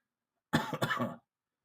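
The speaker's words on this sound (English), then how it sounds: "I still am fighting this cough, so I'll try to limit my cough at night" A single close cough, a short rough burst with a second catch partway through, in an otherwise quiet room.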